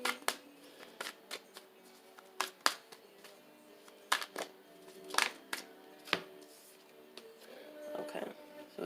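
Tarot cards are shuffled and drawn by hand, giving quiet, close, irregular riffles, flicks and soft slaps of card stock in sparse bursts.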